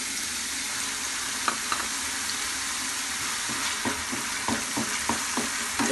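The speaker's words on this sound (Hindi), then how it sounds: "इसके साथ हम इसको थोड़ा सा फ्राई करेंगे।" Whole spices (black peppercorns, cloves, cumin and a cinnamon piece) with ginger garlic frying in a pan for mutton kofta curry, a steady soft sizzle with scattered stirring scrapes and clicks, no voices.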